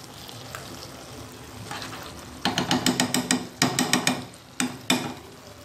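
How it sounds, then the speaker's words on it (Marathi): Ground masala paste with peas and potatoes fries in a pan as a spoon stirs it. A soft sizzle gives way to a quick run of knocks and scrapes against the pan, then a few more spaced strokes, close and without voices. "व्यवस्थित परतून घेऊया"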